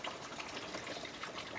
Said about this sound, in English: it flushes your heater and goes through the entire block from the bottom of the radiator up and across, and it comes out there